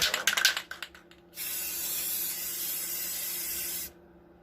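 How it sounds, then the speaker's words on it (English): Rust-Oleum crystal clear enamel hisses from an aerosol can in one steady spray burst lasting a few seconds, close and fairly loud. A few clicks and rattles come first, then the spray stops abruptly. "crystal clear enamel by Rust-Oleum, just to put a coverage on here."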